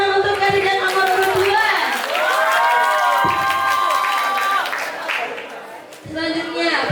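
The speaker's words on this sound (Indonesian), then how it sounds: "Sekali lagi tepuk tangan untuk kandidat nomor urut" Crowd at a school student council candidate debate cheers, claps and shouts, with children's voices mixed in and voices heard throughout; the noise stays loud and continuous over several seconds.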